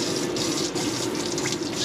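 Hot water gushes steadily from the tap of an Adria Compact motorhome, a close, continuous splashing rush that holds even for the whole moment.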